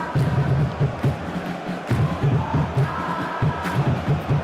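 A stadium crowd roars in the football video game PES 2021, a dense, steady wall of chanting and cheering with rhythmic pulses and no commentary over it.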